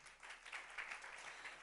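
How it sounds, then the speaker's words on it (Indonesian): Worshippers in an Indonesian church service applaud together, a faint, distant, even wash of clapping that holds steady for a moment with no voices over it. "Tepuk tangan buat Tuhan."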